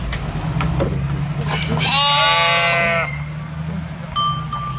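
Ewes bleat in a sheepfold, one long wavering bleat rising clearly close by over a steady low rumble, with a light metallic ring near the end.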